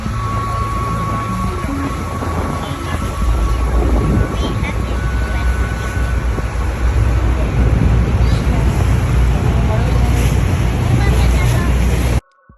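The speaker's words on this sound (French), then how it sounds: "on embarque sur le bateau pour aller vraiment au plus proche des chutes" Steady rumble of a tour boat engine heading close to waterfalls, with rushing water and wind buffeting the microphone, loud and continuous, with voices faintly underneath.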